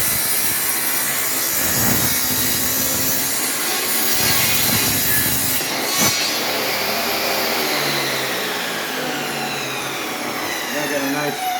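A saw rips a 2-inch strip from reclaimed pallet wood, a loud rasping cut with uneven grinding strokes near at hand, a sharp knock midway, then a fading whine as the blade runs down.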